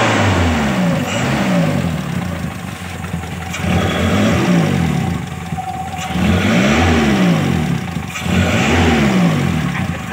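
A Daihatsu Zebra engine is revved repeatedly while its carburetor is tuned and the ignition timing advanced, giving four or five loud, close rising-and-falling rev swells over a steady idle.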